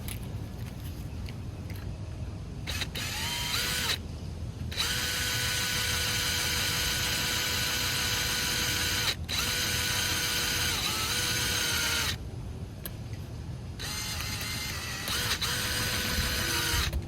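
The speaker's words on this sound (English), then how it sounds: "go ahead and drill this out" A power drill with a large bit drills out broken button snaps on a boat's canvas convertible top, whining steadily in several long bursts with short pauses between them, close up.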